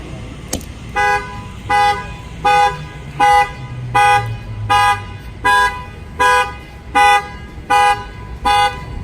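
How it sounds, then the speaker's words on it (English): A Ford F-150's car alarm blares in a steady pattern of about ten short, evenly spaced horn honks, loud and close, with engine rumble beneath. "they try to bust out the window, the alarm will fire off"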